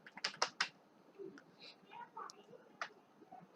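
A computer keyboard being typed on during a Python list program demo, with a quick burst of close key clicks early on and a few scattered taps after, under faint background noise.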